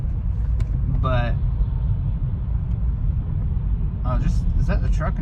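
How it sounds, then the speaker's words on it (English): A truck on the road ahead of a walker gives a continuous low rumble filling the whole stretch, steady and fairly loud, with a couple of short voice fragments cutting through. "is that the truck in front of me that's making that noise?"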